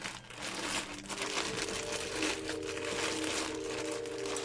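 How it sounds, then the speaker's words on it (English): Plastic wrapping crinkles and crumples continuously as a package of Halloween yarn is torn open, close and fairly soft, with no talking. "why is it so satisfying to open up a package?"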